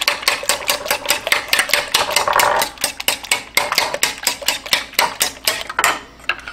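Rapid whisking of beaten eggs with milk in a bowl, a steady run of quick, bright clinking taps from utensil against dish, loud and close, with a brief pause near the end.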